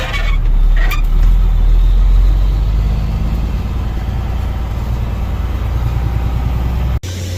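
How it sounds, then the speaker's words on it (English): A 1996 farm truck engine idling nearby, a loud steady low rumble that holds evenly with a brief sharp click near the end. "One thing about this truck, it sounds good."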